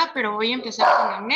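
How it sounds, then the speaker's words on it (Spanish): A dog barks repeatedly close by, sharp yelping barks layered under someone speaking Spanish in an indoor online medical talk. "perdón por los ladridos"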